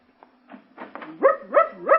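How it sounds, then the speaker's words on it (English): In an old-time radio drama, a dog gives a quick series of clear, rising yips and whines, growing louder toward the end, with no talk over it. "And my little old dog."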